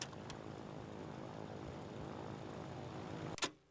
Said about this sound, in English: that's the big plane coming.